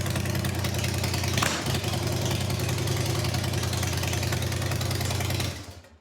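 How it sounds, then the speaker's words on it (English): A woman's motorcycle idles nearby with a steady low rumble and slight knocking, holding even for several seconds before cutting off and fading out at the end. "God, I love my motorcycle."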